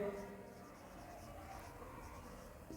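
A pen or marker writes a quadratic equation by hand, giving faint continuous scratchy strokes under soft background noise.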